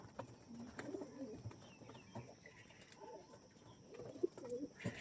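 Pigeons coo softly nearby in repeated throaty phrases over a faint background hum, with a couple of louder calls toward the end.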